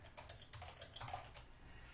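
Typing on a computer keyboard while entering text into a Joomla 1.7 site editor, a quick irregular run of soft close key clicks, faint and alone with no talk over it.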